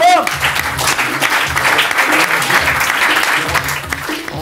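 A TV studio audience applauds loudly on a French talk show, a dense sustained clatter of clapping close to the microphone with voices faintly mixed in.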